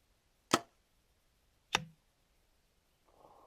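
Two arrows strike a foam 3D coyote target on an outdoor archery range, each a sharp, fairly loud thwack about a second apart, followed by a brief low rustle near the end.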